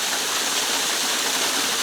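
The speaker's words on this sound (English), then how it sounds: "the centre of the frame where that water's splashing down on the ledges" A waterfall splashes down over rock ledges, a continuous bright rushing hiss of falling water with no pauses, close and steady throughout.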